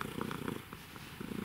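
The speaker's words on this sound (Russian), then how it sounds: "Это кошка с нами." A pet cat purring close up, a soft continuous rhythmic rumble with steady pulses throughout and no talking.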